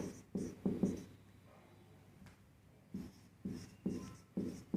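Chalk or marker scratching on a board during a Hindi biology lesson, in short repeated bursts of strokes with pauses between, fairly close and moderately loud, with no talking.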